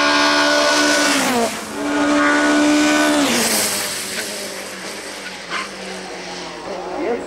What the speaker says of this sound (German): Hier unterwegs mit dem Audi 80 Quattro.